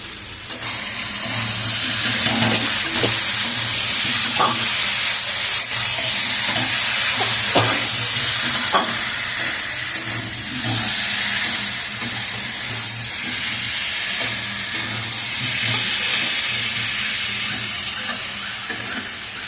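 Potatoes and spice paste sautéing in a pan for a live magur fish curry, a loud continuous sizzle and hiss close up, with intermittent stirring scrapes and no voices.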